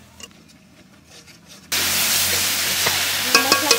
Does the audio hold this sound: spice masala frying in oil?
yes